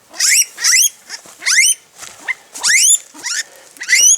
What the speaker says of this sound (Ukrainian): А це кабан.